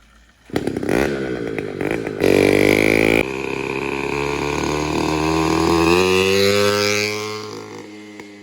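A motorized bicycle kit engine with nitrous opened to full throttle: a harsh two-stroke buzz that jumps in bursts, then settles into a loud, rising, sustained whine, close by.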